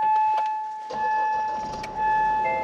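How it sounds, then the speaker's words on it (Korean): A Korean 4WD family car with a smart key, 120,633 km on the clock, starts up inside the cabin, a brief starter whir followed by the engine catching, close and moderately loud with electronic chimes. "우선 시동 먼저 한번 걸어볼게요."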